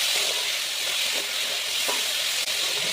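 Potato pieces seasoned with salt and turmeric fry in hot oil, a loud, dense, steady sizzle with occasional scrapes of stirring, close up and continuous.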